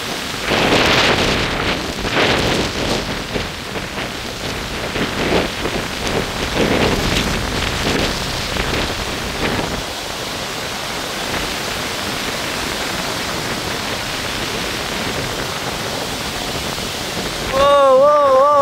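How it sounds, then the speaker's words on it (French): Strong gusts of wind buffet close by in loud, surging bursts of broadband roar, easing into a steady rush before a brief final swell. "c'est quoi ces rafales?"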